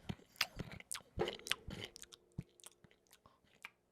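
Loud, close chewing and crunching of food in quick irregular bites, each crunch sharp and distinct against near silence.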